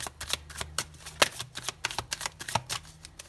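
Tarot cards being shuffled by hand, a quick run of crisp flicking riffles at an uneven rhythm, close and fairly loud, with no talking.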